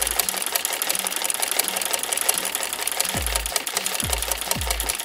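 Sewing machine stitching embroidery on fabric, a fast, steady mechanical chatter of needle strokes, close and loud, with a few low motor thumps near the end.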